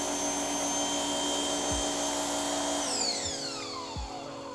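An Active VE52 pressure washer unit runs with a steady, loud motor whine and hum, then winds down in pitch and trails off over the last couple of seconds, with a few low knocks along the way.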